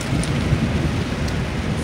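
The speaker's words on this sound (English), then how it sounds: "as you notice, it is raining." Steady rain pours down on a wet day before a youth football practice, a dense, loud hiss of drops filling the brief moment without a break.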